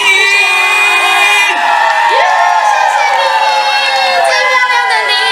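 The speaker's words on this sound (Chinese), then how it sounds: "再用最热情的尖叫声及掌声，" A concert crowd at an outdoor summer carnival in Pingtung, Taiwan, cheers, screams and whoops loudly and continuously, close and dense, with rising shrieks over music.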